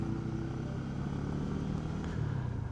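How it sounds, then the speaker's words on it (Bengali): A motorcycle rides along a scenic tree-lined road toward Sajek Valley in the monsoon, its engine droning steadily and close throughout with a low rumble and no talk. "আমি বাইক নিয়ে যাচ্ছি।"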